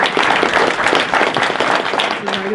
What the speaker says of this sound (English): Let's give another applause to her, actually.